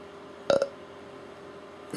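A single short, close burp breaks out of quiet room tone, with a brief second gulp just after and a faint noise at the end.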